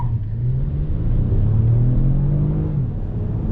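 A 2020 Lexus ES350 in sport mode accelerating under throttle with slight traction loss: a loud, steady engine drone that rises gradually in pitch over a low rumble, heard from inside the car with no talking.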